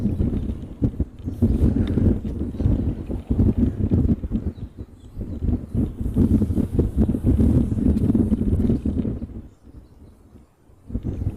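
Strong wind buffets a microphone outdoors at a plane-spotting spot on Maui, Hawaii, giving a loud, rumbling low roar in gusts that ease briefly near the end before picking up again, with no voices.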